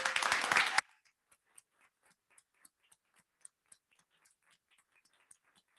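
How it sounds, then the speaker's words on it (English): A loud burst of applause at a hospital board meeting honoring a lead nurse, lasting under a second before cutting off into faint scattered clicks and ticks. "Let's give her a round of applause."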